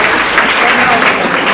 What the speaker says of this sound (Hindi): एक बार जोरदार तालियां आप हमारे दीपक भैया के लिए बजा दीजिए।